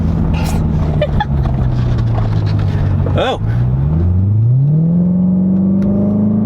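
A Corvette Stingray with an MBRP aftermarket exhaust, catless, revs and drones steadily, pitch rising and falling with throttle, loud and close, with a brief exclamation from a voice.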